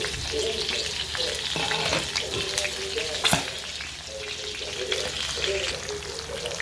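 Pork sticks cook in a pan with a busy frying sizzle, interrupted by scraping and stirring strokes and a sharp clatter partway through; no one speaks.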